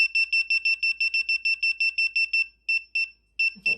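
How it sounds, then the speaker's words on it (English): A KAXYUYA bug detector sounds a rapid series of sharp, high electronic beeps in short regular bursts, close and loud, with a brief pause before a few final beeps and a short rustle at the end. "So it beeps it as signal."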